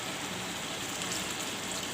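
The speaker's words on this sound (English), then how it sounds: "Now I will put some water" Water pours steadily into a pan of half-cooked chicken with green masala to make curry gravy, a continuous close splashing hiss.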